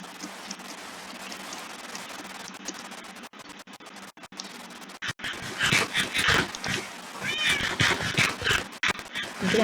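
A cat meows in the Minecraft 1.21.10 video game. Several short, high meows arrive in quick succession over a steady hiss like rain, growing busier and louder toward the end.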